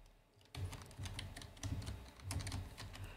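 Rapid typing on a computer keyboard, close and fairly loud, with clustered bursts of key clatter in an uneven rhythm after a brief quiet start.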